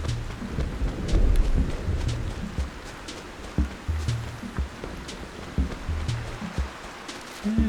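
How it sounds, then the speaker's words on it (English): Rain falls steadily in the video game Animal Crossing, with low rumbles of thunder rolling through at intervals and scattered sharp drips, at a moderate, even level. "because it's raining"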